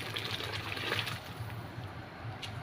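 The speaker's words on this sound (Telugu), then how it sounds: "ఇప్పుడు మనకు సరిపడంత వాటర్ అయితే వేసుకోవాలి" Hot water poured into a pot of mutton tomato rice, heard as a steady close trickling and splashing stream that continues throughout.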